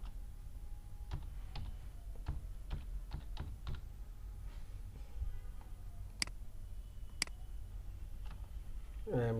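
Scattered keystrokes on a computer keyboard, a quick run of clicks followed by a pause and two sharper isolated taps, close and fairly quiet, with no talking.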